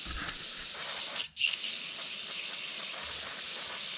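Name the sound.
carburetor cleaner spray on Toro CCR2450 snowblower carb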